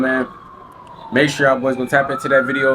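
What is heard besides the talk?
police sirens in the background in Miami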